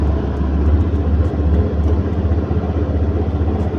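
A fuel-injected motorcycle engine idles close by, giving a steady low rumble with an even pulsing beat and no talk over it.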